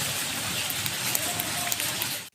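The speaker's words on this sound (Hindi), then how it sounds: "कसूर शहर और गिरदोनवाह में भी आज दूसरे रोज मूसलाधार बारिश का सिलसिला जारी है।" Heavy monsoon downpour over the city of Kasur in Pakistan's Punjab, a dense, steady hiss of rain striking surfaces with scattered louder drops, continuous and close until it cuts off abruptly.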